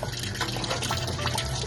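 Hand-washing laundry with water, soft continuous sloshing and dripping, close and steady over a short stretch, with no talking.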